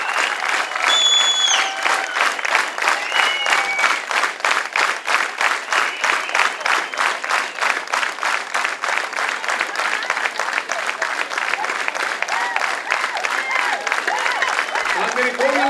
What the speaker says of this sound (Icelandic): Gefum þessu fólki gott klapp